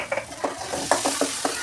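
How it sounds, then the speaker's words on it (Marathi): Onion and homemade spice masala with salt sautéed in a pan, a spatula scraping and stirring in quick irregular strokes over a soft steady sizzle, close and moderately loud with no talking. "सगळे मसाले एकत्र मस्त कांदा सगळं एकजीव करून परतायचं"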